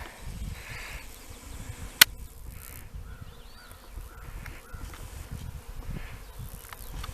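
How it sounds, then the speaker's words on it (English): A swarm of honeybees from a hive in northeast Tennessee makes a faint, steady buzzing drone outdoors, with a single sharp click partway through and crows cawing in the background. "Hive number 2 swarming today."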